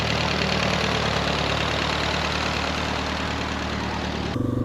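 A Yamaha XT250 motorcycle runs steadily on a trail ride, its engine holding a dense, continuous mid-low drone close by, with a slight shift in tone right at the end.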